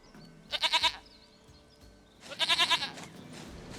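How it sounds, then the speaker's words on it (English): A goat in the video game Witcher 3: Wild Hunt gives two loud, close, quavering bleats separated by a short pause. "Goat of mine, dearest, sweetest goat."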